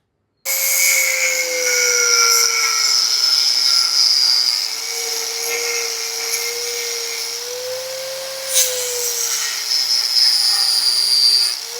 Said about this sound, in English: So I'm just going to cut that with the die grinder, see what happens.